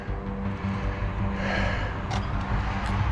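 An RC10B4 radio-controlled car runs outdoors on a quiet evening, giving a steady, continuous rush of motor and surface noise with no voices.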